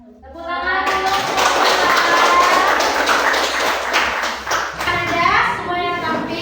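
Audience clapping for a student group that has just finished its classroom presentation, a loud, steady patter of many hands that holds through the whole stretch, with faint children's voices mixed in.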